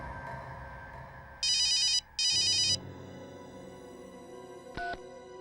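A telephone rings in a tense TV drama scene, sounding two loud, close trilling bursts in quick succession over background music, followed by a short click.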